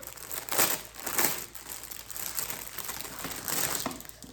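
Plastic packaging around Shein pillowcases being opened close up, with soft crinkling and crumpling in a few louder bursts over a quiet background.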